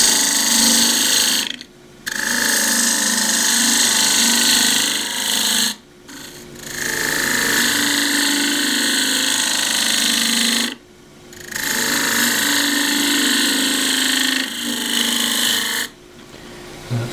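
A half-inch spindle gouge cuts into a cross-grain wooden box on a wood lathe, producing loud, close rasping scrapes in four long passes separated by short quiet gaps.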